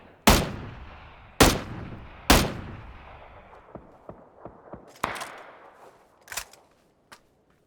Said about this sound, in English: if you really want to debilitate someone's weapon, you're going to shoot the two tires on this side